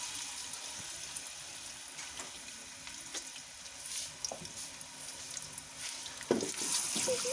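Onions sizzle as they fry in hot ghee in a pan, a steady hissing crackle with occasional stirring clatters, growing louder toward the end.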